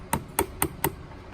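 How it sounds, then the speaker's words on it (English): A hammer drives a stair cable fitting back in with four evenly spaced, sharp metallic taps in quick succession, close and clear against a quiet background. "You can just hammer that back in."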